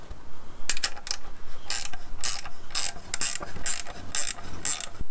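Spanner ratcheting on the ring bolts of a Kamado Bono grill lid, a close series of about eight rapid clicking bursts in a steady rhythm, loud and alone.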